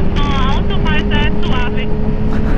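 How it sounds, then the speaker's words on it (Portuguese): Loud, steady low engine rumble of an idling motorcycle, close by, with someone talking over it. "Aí fica o ronco aí, não é muito barulhento"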